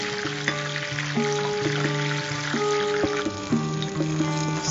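Prawns deep-fry in hot oil over a low flame, giving a steady, dense crackling sizzle that carries on without a break for the whole stretch, close and fairly loud, with no voices over it.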